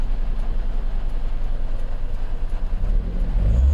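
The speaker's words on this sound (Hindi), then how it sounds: "20-30 की स्पीड पर गाड़ी चल रही है" A car creeping along slowly at low speed on a rainy Delhi road, a low rumbling engine and road drone that swells near the end, with no talk.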